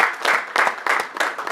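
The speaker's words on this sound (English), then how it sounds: "Beatrice, a round of applause as she comes up." A loud, brief burst of applause from a crowd at an NGO launch event, with clapping pulsing in quick uneven waves.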